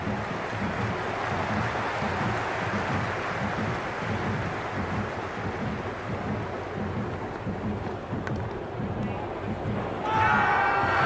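Steady roar of a cricket stadium crowd in a video game, a dense continuous wash of cheering and murmur that swells slightly near the end, with no other sounds standing out.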